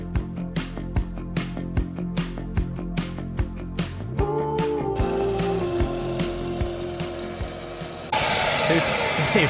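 Old mortar is cut from house brickwork with a multi-tool and an SDS drill. First come evenly spaced sharp knocks, then a steady buzzing whine that grows harsher and louder near the end, all close by.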